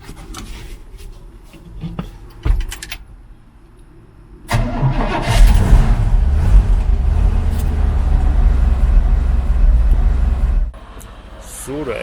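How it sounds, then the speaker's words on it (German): A truck pulls up at a loading ramp to deliver a shipping container. A quiet stretch with a few knocks gives way to a loud, steady engine rumble that holds for several seconds and then drops off abruptly. "So, der LKW kommt jetzt."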